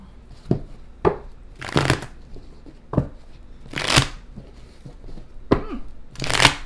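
Tarot cards are shuffled by hand in a series of quick riffling bursts and soft taps, some short and sharp, others longer, close up with no talk.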